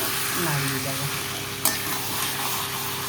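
Chicken meat hits a hot pan and sizzles steadily while being stirred, with a brief sharp scrape midway, close and fairly loud.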